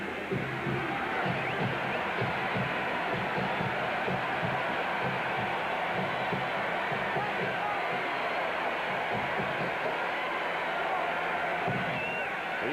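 Dense roar of a large football stadium crowd at a 1982 USC at Florida college game, a steady loud wash of many voices holding throughout.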